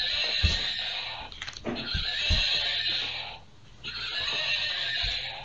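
A horse neighs and whinnies loudly several times, with short snorts and breaths between the calls, close by.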